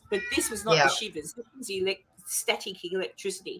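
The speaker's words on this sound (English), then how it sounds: "that's my cat. She'll start whinging again in a minute." A pet cat whinges with a short, rising meow cutting through a lively conversation indoors, as several people keep chatting over and around it.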